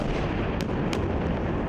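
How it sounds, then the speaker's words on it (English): Israeli missile strikes and militant rocket launches over Gaza make a dense, continuous roar of booms with two short sharp bursts cutting through, loud and unbroken across the whole moment. "A relentless stream of booms and whooshes as Israeli missiles land and militant rockets are launched."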